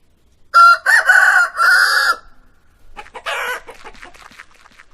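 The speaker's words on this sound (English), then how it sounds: "chicken" A rooster crows loudly and close by, a long cock-a-doodle-doo in several strong bursts, followed by fainter clucking and scattered farmyard noise.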